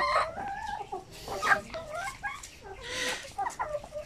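Zampen native hens at a farm cluck and chatter in repeated, overlapping calls at close range, with a steady low rumble of background noise beneath them.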